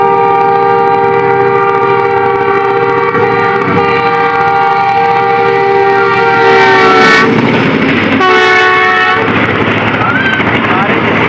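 Pakistan Railways train at Landi junction, a loud sustained horn with several steady tones sounding up close, then breaking off and blaring again in short bursts over rumbling rail noise.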